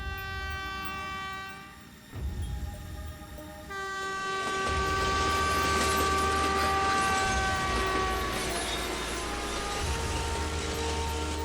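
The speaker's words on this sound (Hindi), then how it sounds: "कावेरी एक्सप्रेस पास हुई।" The Kaveri Express passes close by, a loud rumble of wagons building after a brief dip, with a sustained multi-tone train horn sounding over the rolling noise for several seconds.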